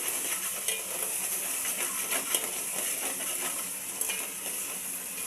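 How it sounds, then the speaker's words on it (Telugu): Ginger-garlic paste fries in a pan for a cauliflower and tomato dish. A bright, continuous sizzle carries faint stirring scrapes throughout, close and even, with no voices. "ఇది కొంచెం పచ్చి వాసన పోయేంత మట్టుకు వేపుకోవాలి."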